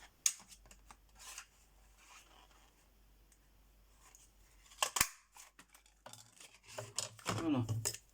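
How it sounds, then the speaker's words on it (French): Scissors cut a piece of cardboard in two, with crisp snipping and crunching bursts that grow denser toward the end, close up and mixed with soft handling noises and quiet talk. "je vais prendre un carton qui est là, doit en avoir, c'est pas grave ça. Et je vais le couper en deux."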